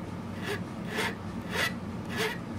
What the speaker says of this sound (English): It's worth kind of cleaning the burrs off of these after you cut them.